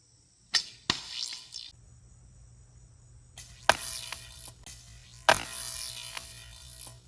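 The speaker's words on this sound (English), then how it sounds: "Paper Armor V3 versus Practice Arrow whenever you're ready." Practice arrows are loosed at armor made of printer paper, with sharp thwacking impacts: two quick hits early, then two louder strikes spaced apart, over a faint steady insect-like hum.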